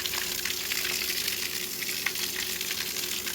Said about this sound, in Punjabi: ਤੇ ਇਹ ਹੁਣ ਪ੍ਰੈਸ਼ਰ ਚੈੱਕ ਕਰੋ ਤੁਸੀਂ ਪਾਣੀ ਦਾ